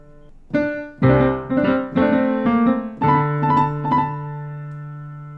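Piano plays short groups of quick trill-like notes from the Antiques Roadshow theme, with a held left-hand D beneath and the last chord left ringing to fade, close and clear with no talk.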